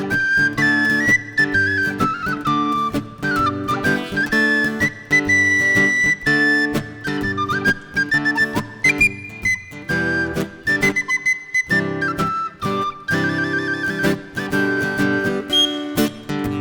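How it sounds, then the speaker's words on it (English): A penny whistle is played with the nose, giving a loud, continuous run of reedy melodic notes with quick pitch shifts and short breaks over backing music, with no talking. "Nose whistle."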